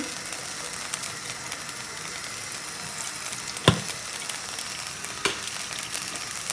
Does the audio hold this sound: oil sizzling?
yes